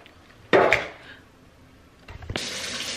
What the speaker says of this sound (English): put some water, hot water, in our tray